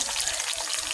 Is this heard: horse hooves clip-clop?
no